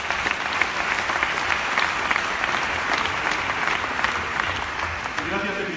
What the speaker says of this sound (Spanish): Así que un aplauso también para vosotros.